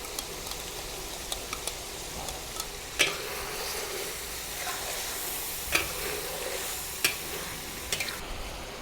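Sweet and sour pork and shrimp stir-fry in a wok as sauce goes in, with a continuous hissing sizzle broken by sharp spatula clicks and taps at intervals.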